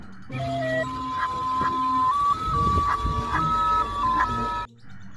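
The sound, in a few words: toy ice cream truck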